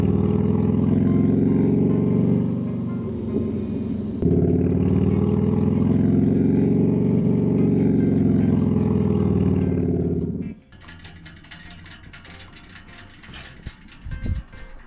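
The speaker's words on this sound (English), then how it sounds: "That's the sound of a warm Harley." A warm Harley-Davidson motorcycle engine idles with a deep, steady rumble for about ten seconds, then cuts off, leaving quieter clicks and ticking.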